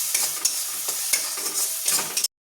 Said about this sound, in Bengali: দিয়ে এবার এটাকে আমি ভালোভাবে কষে নেবো।